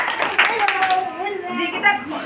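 Children clap their hands during a classroom word game, a few quick claps heard close by, with a teacher's voice speaking over them.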